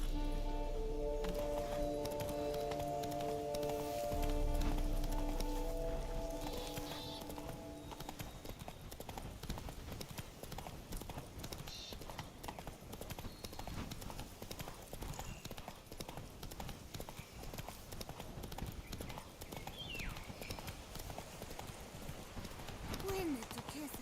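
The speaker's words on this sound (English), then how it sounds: "Run, Roach" Hoofbeats of a galloping horse, Roach, from The Witcher 3: Blood and Wine, run in a steady clip-clop rhythm under game music and ambient sound, with a brief whinny and other game noises later on.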